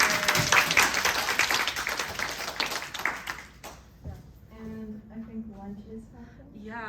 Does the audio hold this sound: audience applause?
yes